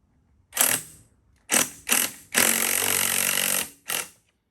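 A socket wrench on a tire breakdown tool for a Honda CT70 rim, working in four or five close, loud bursts of ratcheting, one long sustained run in the middle and short pauses between, no talking.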